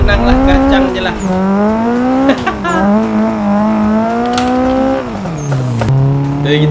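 Nissan Silvia S15 drifting in the Assetto Corsa racing game, its engine note held loud and continuous, rising and falling with throttle shifts over about seven seconds, with a touch of tire squeal.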